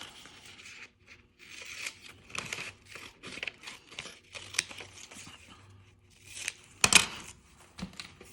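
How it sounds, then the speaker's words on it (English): Scissors cutting out four paper squares, heard as soft, close snips and paper crinkling in uneven bursts, with one sharper clatter near the end and no talking. "So we're going to cut those 4 squares out."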